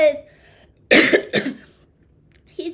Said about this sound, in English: See what I mean by this cough?